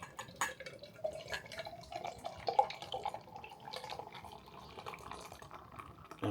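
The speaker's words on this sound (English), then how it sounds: "Oh, we have another good pour." Neptune Brewery Oktoberfest HefeWeizen, a 5.5% wheat beer, pours into a glass with a soft running trickle and light splashing that carries on steadily throughout, fairly faint and close up, with no talking.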